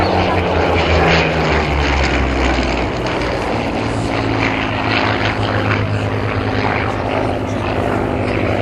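The Battle of Britain Memorial Flight Spitfire P7350 flying at Cosford Airshow 2008, a loud, continuous piston-propeller drone that fills the whole stretch with a steady engine roar and crowd ambience.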